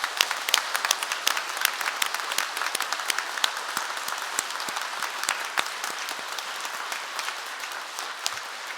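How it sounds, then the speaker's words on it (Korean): A church congregation claps through a Catholic thanksgiving Mass celebrating a bishop's hundredth birthday, a dense, steady, fairly loud round of applause that sounds alone, with no talk over it. "큰 박수 부탁드립니다"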